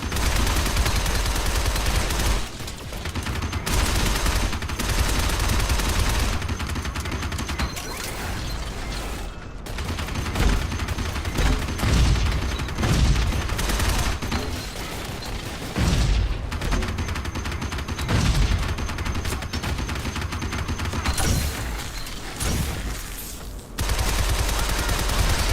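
Gunfire and grenade blasts in the action game Shadow Complex, with a Gatling gun in play, loud and sustained rattling bursts of shots and mechanical clatter across the whole stretch, broken by brief pauses.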